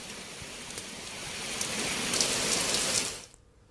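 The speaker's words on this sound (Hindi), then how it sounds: "हवा के साथ हो रही बारिश ने पूजा में खलल डाल दिया।" Wind-driven rain pours steadily at Durga Puja pandals in Ranchi, a dense hiss that swells louder toward the end before cutting off abruptly.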